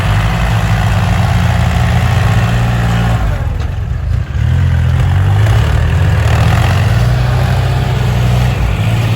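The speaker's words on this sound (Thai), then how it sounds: "ก็คือเครื่องยนต์ของ 36 นะครับ" A Kubota L3608 tractor with a roughly 1,600 cc engine idles close by, a loud steady low rumble that dips briefly midway before settling back into its even throb.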